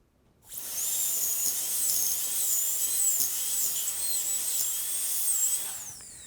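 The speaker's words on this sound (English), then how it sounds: "I would cut this tooth off at the gingival margin" High-pitched whine of a dental drill with a surgical burr cutting through a tooth at the gumline, loud and steady for several seconds with slight pitch wavering, then fading at the end; no talking.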